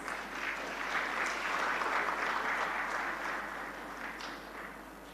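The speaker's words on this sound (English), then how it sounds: "Ladies and gentlemen, with a big round of applause." An audience at a South India media summit claps together, a dense wash of steady applause that holds strong and then slowly tapers off toward the end, heard from within the hall with no speech over it.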